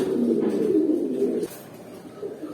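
Pigeons in a loft coo steadily at close range, a warm throbbing murmur that softens after the first second and a half, with no voices.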